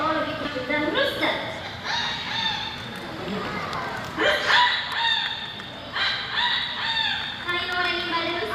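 People take turns crowing like a rooster into a microphone, voices imitating the bird with several loud, drawn-out cock-a-doodle-doo calls in a row, with clucking noises between them.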